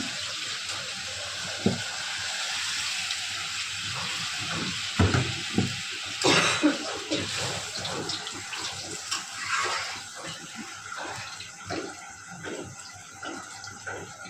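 Broth poured into a simmering curry of fish, eggplant, beans and potatoes, a soft splashing pour followed by gentle bubbling and sizzling, fairly quiet and close.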